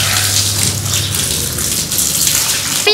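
Cold water is poured and splashed over a lion in a mini zoo cage, a loud, close, continuous gushing and splattering with no talk.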